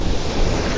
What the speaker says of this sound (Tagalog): Ay, laki ng alon.